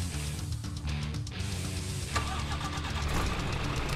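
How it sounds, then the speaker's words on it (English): A military vehicle engine starts in the video game Arma 3, cranking and catching into a rumbling, knocking mid-range idle that stays loud and steady. "Switching the engine on"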